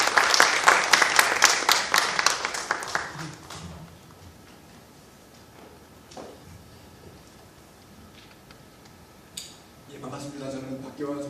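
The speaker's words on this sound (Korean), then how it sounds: "박수 부탁드리겠습니다." An audience at a Korean church lecture claps to welcome a speaker to the front. The applause is brisk and dense, then fades out after a few seconds into quiet room tone, and a voice starts talking near the end.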